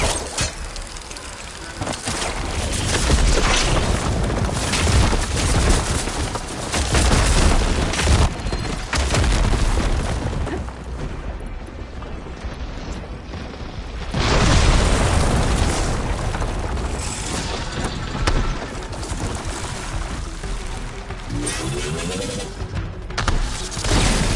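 Heavy booms and bursts from ballista shots and explosions in the Horizon action game come in repeated loud waves, dense and rumbling over a continuous battle din.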